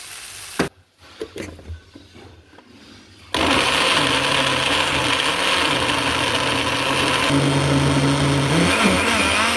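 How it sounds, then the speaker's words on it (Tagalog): A kitchen blender runs steadily and loudly after a few seconds of quieter clatter, its motor whirring continuously with slight pitch wobbles while blending ingredients for butter chicken. "Blender ko na siya"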